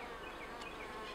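A steady, dense buzzing of many honey bees at a hive, close and continuous, with no voices.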